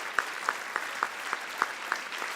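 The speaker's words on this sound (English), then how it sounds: "One big round of applause for all of them" A small, faint audience claps for awardees at an awards event, with a few distinct claps at a steady rhythm over a soft, distant wash.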